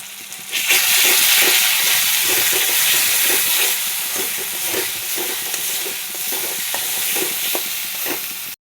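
Steady, loud sizzling and crackling of a ground spice paste frying in hot oil with cumin, coriander and turmeric powder, occasional soft stirring clicks, no voices.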